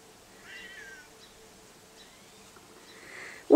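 A cat gives a few faint, thin meows at a fence, soft and distant in a quiet setting, followed by a sudden louder sound at the end.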